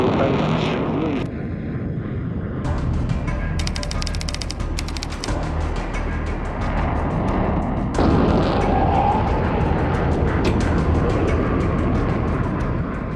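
A Vulcan bomber in flight over the Falklands in 1982 produces a dense, continuous rumble of jet engine noise with crackling bursts, loud and unbroken throughout, while voices speak faintly beneath it.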